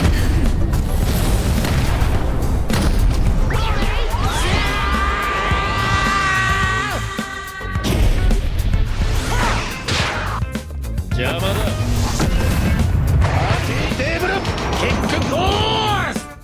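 Maximum lapse blue attack striking an enemy in a Roblox fight, loud booming impacts and crashes with sweeping tonal whooshes, repeated over a dense game soundscape, with someone talking throughout.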